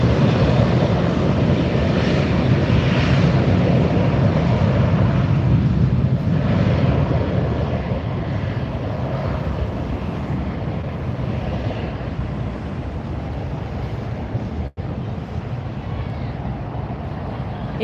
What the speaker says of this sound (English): our next arrival is going to be Air Canada. That's an Airbus 320 coming in from Toronto.